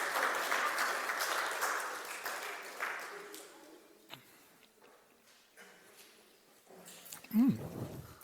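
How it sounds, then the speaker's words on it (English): Audience applause in a church service, a broad dense clapping wash loudest over the first three seconds, then thinning and fading into quieter room sounds with a few isolated claps. "Big round of applause for those who've helped."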